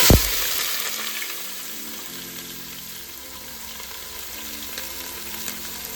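Whole spices fry in hot oil in a pan for a village-style dish, a steady broadband sizzle that stays even throughout after a brief sharp clatter at the start, with no talking.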